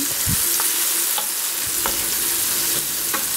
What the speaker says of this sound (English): I'm going to stir them around